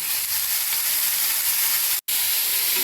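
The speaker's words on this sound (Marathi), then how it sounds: "कढईमध्ये थोडंसं तेल टाकलेलं आहे त्यात हा चिरलेला कांदा जो आपल्याला मासवडीमध्ये भरायचा आहे त्यासाठी कढईमध्ये टाकलेला आहे" Chopped onion frying in a little oil in a kadhai, a steady close sizzle with a brief drop out near the end and no talk.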